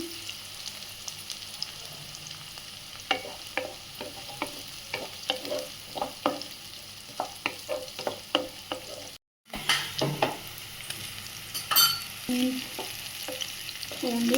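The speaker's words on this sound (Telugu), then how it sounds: "ఆనియన్స్ గోల్డెన్ కలర్ వచ్చే వరకు ఫ్రై చేసుకున్నాము" Onions frying in a pan for a Telugu tomato cabbage curry, a steady sizzle broken by a run of scraping stir strokes, a brief gap, then more sizzling and stirring, close and moderately loud with no talking.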